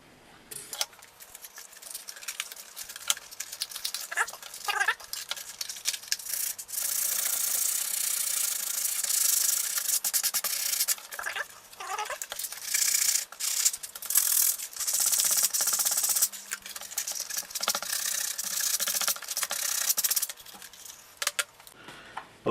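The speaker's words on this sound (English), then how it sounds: "I'm going to sand these things down so the glue can hold it" Parts of a homemade pop pop boat are sanded by hand, giving bursts of scratchy rubbing strokes, some short and others long and sustained, close by and without talk.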